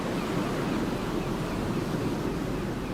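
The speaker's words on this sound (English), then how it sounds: "The North Sea coast of the Netherlands." Waves on the North Sea coast of the Netherlands wash in as a steady, broad surf roar with some wind noise, continuous and fairly loud across the whole stretch, with no voices.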